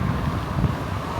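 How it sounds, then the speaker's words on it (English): Strong wind buffeting a microphone outdoors in Kota Bharu, Malaysia, giving a steady, loud, low rumbling roar throughout with no voices. "the wind's really blowing"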